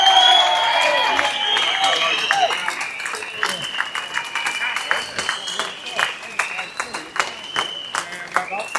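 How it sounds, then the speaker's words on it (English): Crowd at a London march for children bursts into loud applause with some cheering, the clapping gradually thinning into scattered claps. "Please give her a massive round of applause."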